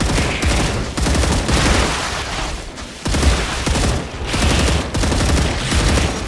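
Sustained rapid gunfire in the StarRupture video game, loud continuous bursts of automatic weapon fire with short pauses between volleys.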